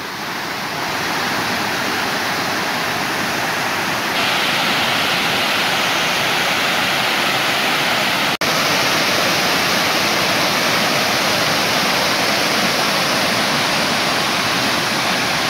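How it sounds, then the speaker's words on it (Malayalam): Kudilukuzhi waterfall at Kadamanitta in Kerala, a loud, continuous roar of falling water, steady and close throughout with no voices. "കുടിലുകുഴി വെള്ളച്ചാട്ടം"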